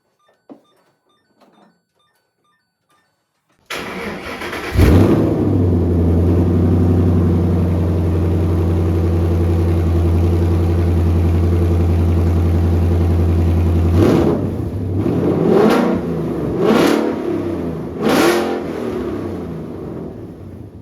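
After a few faint clicks, a Ford Mustang engine with Eleanor-style exhaust tips cranks and catches with a loud roar, then settles into a deep, steady idle before a few brief throttle blips.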